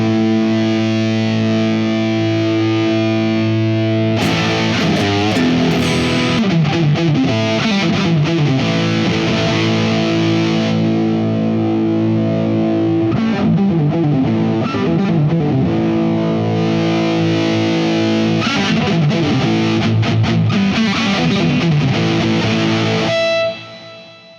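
Heavily distorted electric guitar through a four-stage-gain amplifier chugs and sustains loud, high-gain chords and riffs, continuous for over twenty seconds with no voices.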